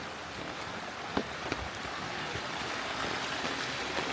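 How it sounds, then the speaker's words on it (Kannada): A stream of water flowing at the entrance to Kavaledurga Fort during a trek, a steady rushing, splashing wash heard close and unbroken, with a couple of light knocks and no speech. "ನೋಡಿ ನೀರು ಹೆಂಗೆ ಹರಿತಾ ಇದೆ."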